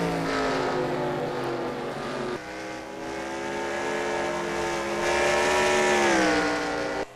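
NASCAR Nationwide Series race cars roaring past on the track, a loud, sustained engine drone that rises in pitch as the cars accelerate through the turns, with no voices.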